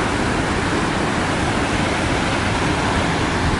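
Iguazu Falls on the Argentinian side roars as a dense, steady wall of broadband water noise, loud and close, with no break or voices over it.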